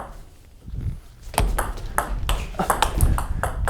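Table tennis ball striking an Xiom Omega VII Euro rubber during half-long forehand shots, giving a run of sharp knocking hits roughly every half second, near and fairly loud, with no speech.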